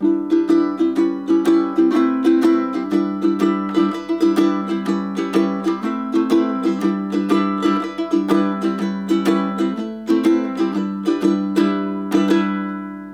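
Ukulele strummed in a steady rhythm, chords sliding by small steps in a repeating vamp, bright and close with no voice.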